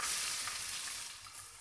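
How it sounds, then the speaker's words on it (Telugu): Chopped onion pieces hit hot oil in a pan, setting off a bright, close, continuous sizzle that holds steady for a moment before easing slightly. "ఇదిగోనండి కట్ చేసి పెట్టుకున్న ఉల్లిపాయ ముక్కలు వేస్తున్నాను"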